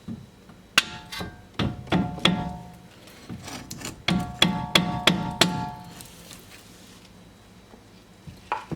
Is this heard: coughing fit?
no